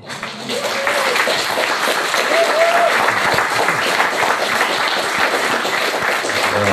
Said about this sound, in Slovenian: Pa aplavz za vse nas, prosim.